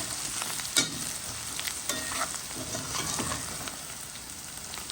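Salted fish tails with potatoes, eggs and bitter gourd sizzling steadily in a pan, with a few sharp stirring scrapes and clinks over the continuous frying hiss, close and fairly quiet, with no talking.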